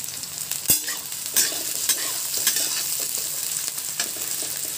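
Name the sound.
onions frying in a pan with green chillies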